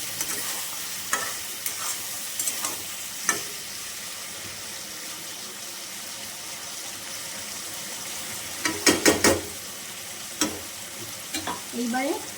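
Shrimp frying with ash gourd in a pan, a constant hiss of oil broken by intermittent scraping stirs and clattering bursts, close and moderately loud, with no one speaking.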